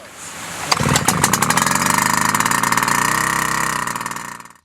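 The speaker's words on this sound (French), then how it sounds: "tirez plusieurs fois sur la corde du démarreur afin de purger le carburant. Le moteur devrait démarrer après 3 ou 4 tirages." A Wick 375 portable pump engine fires up after pull-cord starting. It catches with a sudden burst, settles into a loud, steady, close running drone, then winds down at the end.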